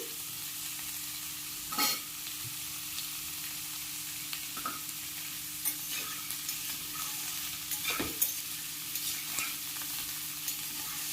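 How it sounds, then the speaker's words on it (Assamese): Food sizzles steadily in a pan, with occasional scraping stirs of a utensil against the metal. "এইখিনি 5 মিনিটমান ভাজি ল'ম।"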